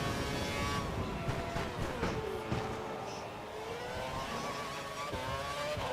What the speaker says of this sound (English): I hear the engine pick up just a little bit more.